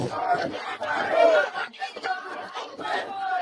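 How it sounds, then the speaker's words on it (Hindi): A protest crowd at JNU chants and shouts together, a dense, continuous roar of many voices rising and falling in waves throughout, fairly loud and close. "अब आइए देखते हैं कि जेएनयू में जो रोज रोज प्रोटेस्ट होते रहते हैं ये कैसे होते हैं और इतनी भीड़ कहाँ से आती है।"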